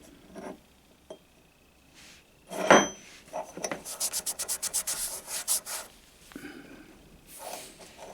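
A rusty black powder gun being rubbed by hand, giving a quick run of close, rhythmic scraping strokes in the middle of an otherwise quiet stretch.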